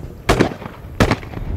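A skeet shotgun fires twice at clay targets, two sharp close bangs about three-quarters of a second apart over quiet outdoor background.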